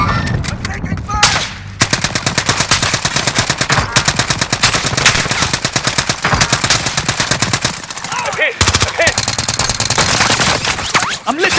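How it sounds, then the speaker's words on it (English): Rapid, dense automatic gunfire in Warzone on Rebirth Island, loud and close, with sustained bursts and only brief gaps, plus occasional game voice callouts mixed in. "I'm taking fire!"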